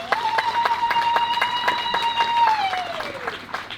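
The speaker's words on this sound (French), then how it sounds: "est-ce qu'on peut juste les applaudir encore" Wedding guests clap in a steady rhythmic beat, with each clap sharp and evenly spaced. A sustained tonal note, like singing or music, holds underneath and then slides down near the end.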